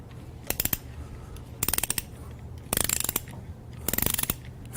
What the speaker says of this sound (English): now you're ready to actually get your torque wrench. Begin tightening.